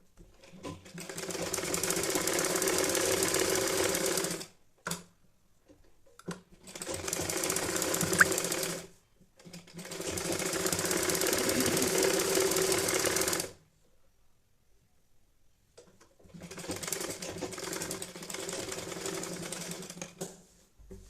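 Sewing machine stitching cloth for a baby's nappy, four loud sustained runs of rapid mechanical whirring stitching, separated by short pauses and a longer quiet gap.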